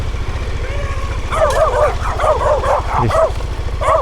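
Several dogs out on a walk with their owner in rural Mexico, barking in loud, close, irregular bursts over the steady low rumble of an idling KTM 1290 motorcycle.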